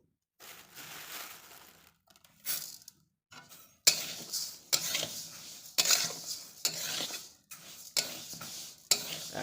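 Moong and masoor dal dry-fry together in a pan on a low flame, a rattling, scraping stir of the lentils in uneven bursts with faint sizzle and clinks of a utensil on metal.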